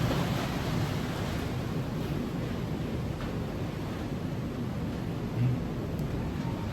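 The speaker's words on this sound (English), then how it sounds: "as you can see behind me, the wind has continued" Strong sustained wind roars with rain during Hurricane Melissa in the Blue Mountains of Jamaica, on the Portland side. The rush is dense and steady, broadband and constant, with no voices.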